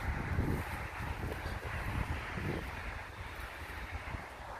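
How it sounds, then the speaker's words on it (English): Steady, blustery wind of a storm roars across the microphone with a constant rumbling buffet, no voices, fairly quiet overall, outdoors by a blooming rose in May. "It's very windy, it's very stormy."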